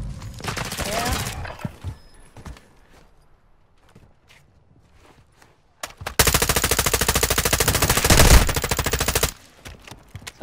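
Video game shootout gunfire: a short burst of shots early, scattered single cracks, then a long rapid machine-gun-style volley of evenly spaced, loud close shots, with footsteps in between.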